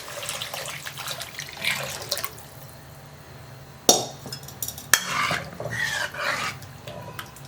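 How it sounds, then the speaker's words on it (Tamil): Cooked lentil water pours and splashes into a pot of rasam with a few clanks of metal, close by, under a soft background hiss. "அந்த தண்ணியை நான் டைரெக்டாக இதில் சேர்க்குறேன்."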